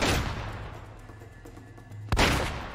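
Gunfire in the Uncharted Drake's Fortune video game: a loud burst at the start, a quieter rumbling stretch, then a sharp close crack followed by another blast, with no talk.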